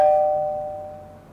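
A single ding of an apartment doorbell rings out clearly and decays slowly into quiet room tone.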